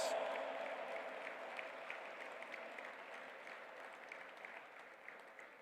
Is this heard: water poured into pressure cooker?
no